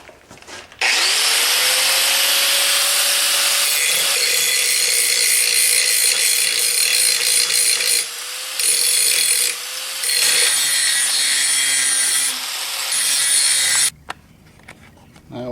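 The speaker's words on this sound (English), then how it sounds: "Now I got to change out this cutting disc for a grinding disc. And we'll grind the edges, take a little bit of this paint off." An angle grinder fitted with a grinding disc takes the edges and paint off the steel canopy frame of a Kuhn mower. The whine is loud, close and steady, dipping briefly a few times as the disc lifts off the metal, then spinning down at the end.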